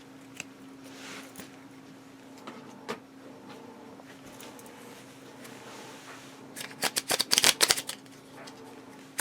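Playing cards being handled in a card flourish, soft faint riffles then a quick close burst of snapping, fluttering card sounds near the end, with low room hum beneath.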